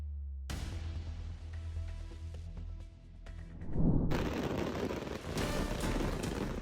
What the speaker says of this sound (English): fireworks exploded early on a golf course